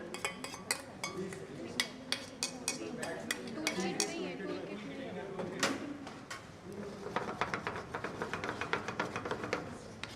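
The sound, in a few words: whisk in a pan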